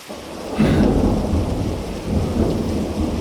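A thunderstorm with heavy rain heard from an abandoned mountain hut in the Dolomites, a deep rolling thunder rumble swelling over a constant hiss of rain, with no voices.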